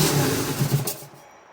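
A 1997 BMW R1100RT motorcycle engine briefly firing after a shot of carb cleaner, a loud rough burst of engine noise that sputters for about a second, then dies away to near silence.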